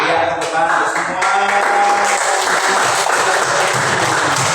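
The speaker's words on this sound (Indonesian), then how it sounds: "Iya, tepuk tangan semua." Clapping from a group of students in a classroom, loud and close, with voices and cheering mixed into the steady rattle of hands, the sound swelling after a brief dip.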